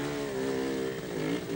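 A Montesa trials motorcycle at a 1971 Australian trials event in Byford, WA, with its engine droning steadily at mid pitch, rising slightly in revs, loud and fairly close.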